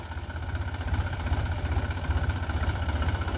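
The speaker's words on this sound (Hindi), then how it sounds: "ट्रैक्टर चला रहा है" A tractor engine runs steadily while sowing sugarcane in 42-inch furrows, a loud continuous low throb with a pulsing rhythm and no voices.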